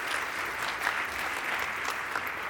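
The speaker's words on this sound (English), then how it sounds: "let's give another round of applause to our judges" An audience at a startup pitch competition applauds the judges and pitch contestants, with steady, moderately faint clapping of many hands throughout and no talk over it.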